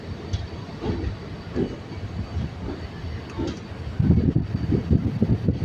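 A passenger train departing Gandhigram station, Ahmedabad, rolls along with a low, steady rumble and rhythmic rattling of the cars, growing louder and heavier in the final seconds.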